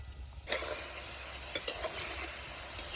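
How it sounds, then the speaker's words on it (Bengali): Sweet potato pantua sweets fry in oil over medium heat; a bright sizzle jumps up after a quiet half-second, then holds steady with a few sharper pops and spatters. "মিষ্টিগুলো একটু লাল লাল কালার করে ভাজতে হবে"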